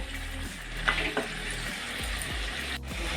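Mutton curry masala with tomato paste sizzles and fries steadily in a pan, with a few stirring scrapes over a constant, close frying hiss and no talk.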